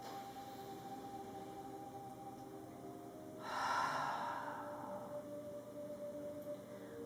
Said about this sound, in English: Take a big breath in through your nose and let it all out of your mouth